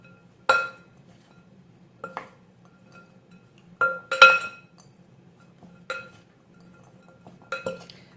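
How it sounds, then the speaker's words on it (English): Salad tongs clink against a large bowl while tossing a carrot and chickpea slaw, giving about six sparse, separate taps and scrapes with quiet pauses between them. "Grab my salad tongs here. I'm just going to toss that up."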